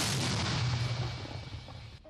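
A Ukrainian T-80 tank hidden among trees near Bakhmut fires on enemy positions, a single heavy close boom whose dense roar fills the whole clip and then slowly fades.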